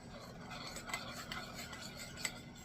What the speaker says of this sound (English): I'm actually going to add it to my butter, and I'm going to stir it in